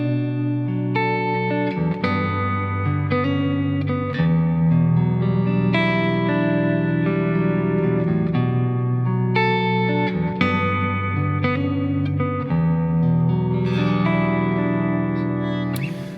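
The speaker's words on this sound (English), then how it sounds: "Let's add a bit of reverb." Electric guitar riff through a Strymon BigSky reverb pedal, sustained chords and picked notes swelling into a thick, shimmering wash of reverb and echo that stays loud and continuous, with no voices.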